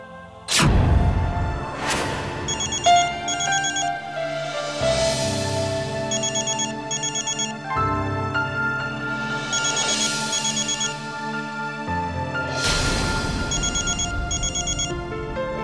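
A phone ringtone rings out during an outgoing call, a melodic electronic tune repeating in four loud bursts that each fade before the next begins, with no voices.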